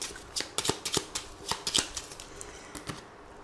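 Lenormand cards shuffled by hand for a nine-card reading, with a quick run of crisp riffling snaps and flicks close to the microphone that gradually fade.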